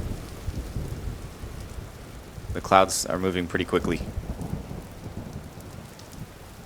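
Steady rain hisses with rolling thunder during a storm in the game Vintage Story, constant and fairly loud, while someone talks briefly over it in the middle.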